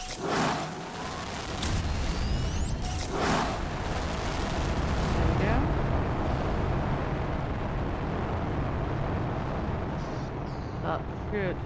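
A rocket launch in the Planet Crafter video game gives a sustained, loud, low rumbling roar after a few sharp bursts, with a voice talking briefly early on.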